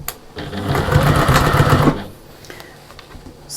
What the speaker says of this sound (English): Stitch up the sides